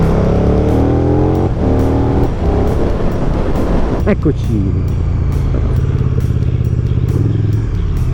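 Riding a KTM 1290 Super Duke GT motorcycle through traffic on the Milan ring road, with a steady engine drone and passing car noise continuous throughout, under someone talking.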